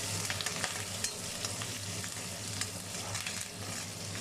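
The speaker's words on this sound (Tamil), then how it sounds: "கொஞ்சம் கருவேப்பிலை இதையும் சேர்த்து நல்லா வதக்கிக்கலாம்" Curry leaves and onions sautéed in hot oil in a pan, a dense continuous crackling sizzle with faint stirring scrapes, close and steady, no speech.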